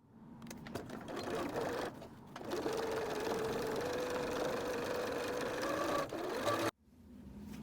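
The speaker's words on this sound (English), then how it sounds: "And then you can top stitch along the top of the pocket." Close, fairly quiet sewing machine topstitching along a bag pocket: a steady whirring run with a few brief interruptions and a sudden stop near the end, with a little voice faintly mixed in.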